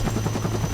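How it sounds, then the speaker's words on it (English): Helicopter in a tactical shooter video game, a steady, loud rotor thump with low droning engine hum, continuous and close throughout with no speech. "An additional helicopter shows up"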